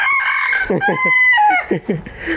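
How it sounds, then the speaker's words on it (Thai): A bantam rooster crows loudly and close by, one long, strained crow with choppy breaks near the end. "แจ้ ร้องเสียงดังเลย"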